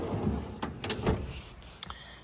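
Metal tool box drawer sliding open or shut, a few quick scraping and clunking movements over two seconds, close and moderately loud with no speech.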